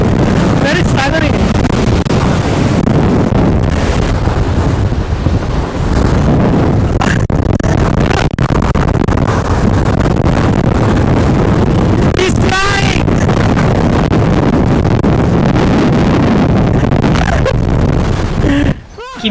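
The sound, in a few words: strong wind blowing at a viewpoint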